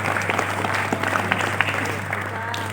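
High school students in a hall clap for classmates who finished memorizing Surah Ar-Rahman, a steady, close burst of applause over a constant low hum with faint voices mixed in.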